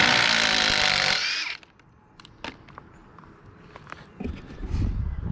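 A power tool drives a screw out of a wooden deck beam for a home addition, with a loud, close whirring burst that cuts off after about a second, followed by scattered knocks and creaks of handling.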